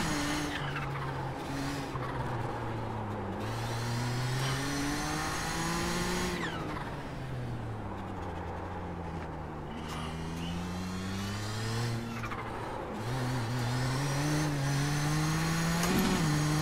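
Race car engine in a racing sim lapping the Nurburgring in a Kamel GT event, a steady loud drone rising and falling in pitch through gear changes, with tire squeal and brief skids over about seventeen seconds.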